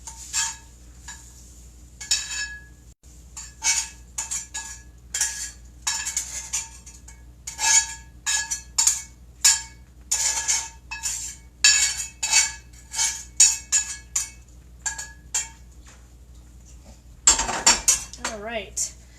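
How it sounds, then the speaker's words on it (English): Utensils clink and scrape against a plate and pan as breakfast bread pudding is served up, a close run of irregular metallic taps and clatters with a brief sizzle near the end and no speech. "I'm going to put this on my plate"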